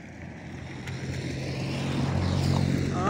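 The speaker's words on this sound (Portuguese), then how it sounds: "Passou um carro por mim." A car drives past on a road beside a reservoir, its engine rumble growing steadily louder and closer over a few seconds against outdoor background noise, with no talking.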